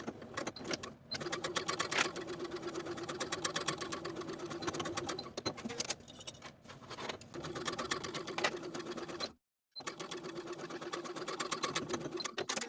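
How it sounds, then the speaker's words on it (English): A sewing machine runs in long continuous bursts, stitching the shoulder seams of a women's top with a half-inch seam allowance, with one brief silent pause near the end. "Sew both shoulders with a 1/2-inch seam allowance and press the seams toward the back."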